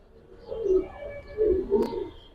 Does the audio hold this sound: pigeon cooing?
yes